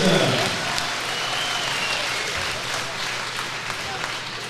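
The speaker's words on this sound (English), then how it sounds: "please show your appreciation for the boxers." Applause for boxers at an amateur boxing international between Scotland and Ireland, a sustained wash of crowd clapping in a large hall with a faint voice over it.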